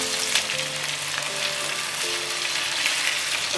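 Chicken sautés in a pan for a capsicum chicken dish, a close, continuous sizzle and crackle of frying with occasional stirring and no talk.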